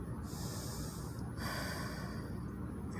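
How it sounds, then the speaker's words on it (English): A steady, audible exhale during a Pilates stretch on hands and knees, a long breathy rush of air that swells midway and continues close and alone, without talk. "Exhaling."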